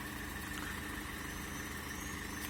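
A 2016 Renault Master van with a 125 hp engine and 308,000 km idles steadily nearby, a low even rumble with faint vibration and no talking.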